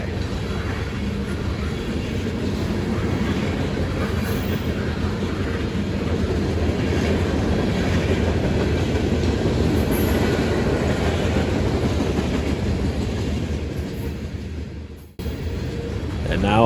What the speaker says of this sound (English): look at these boxes and hoppers and tanks rolling by